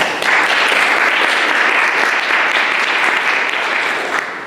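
Audience applause fills a lecture hall at Baylor, welcoming a speaker to the stage: dense, steady clapping from a full crowd that holds loud for about four seconds before starting to thin.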